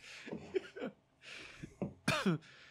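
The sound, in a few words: cough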